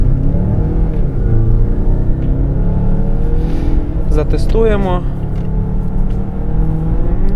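Loud, close engine of a 2023 Mazda CX-9 Carbon Edition droning steadily inside the cabin, with a brief voice and a rising whine midway as it accelerates from standstill onto a highway.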